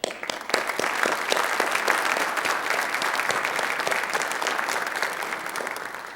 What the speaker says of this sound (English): we're going to give you a big round of applause